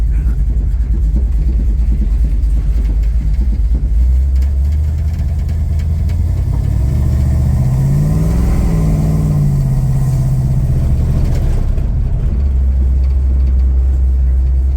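A 1969 Plymouth Road Runner with a big block engine and automatic transmission rumbles steadily while driving, loud and close, its pitch rising and falling once as it accelerates and then eases off.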